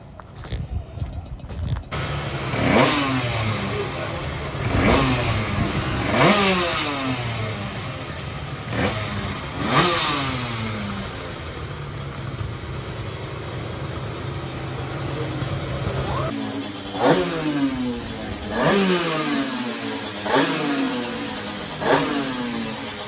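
An 85cc speedway motorcycle on a practice run, its engine revving up again and again in rising sweeps through the gears, loud and close, with a few faint voices underneath.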